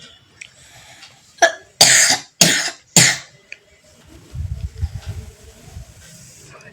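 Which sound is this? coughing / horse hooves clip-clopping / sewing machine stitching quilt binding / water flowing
coughing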